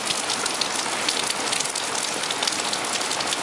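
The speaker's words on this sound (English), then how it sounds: "the rain coming off our little overhang here is kind of blocking a lot of what you could see otherwise" Heavy Hurricane Irene rain in southeast Virginia pours off a small house overhang in a dense, steady, close hiss and roar, with no talking.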